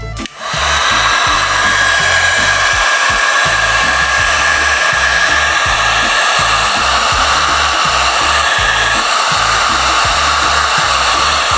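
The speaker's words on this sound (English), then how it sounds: "get the old heat gun." A heat gun blows a loud, steady roar of hot air onto shrink wrap during a motorcycle headlight upgrade, continuous and close, with an even whine throughout and no talking.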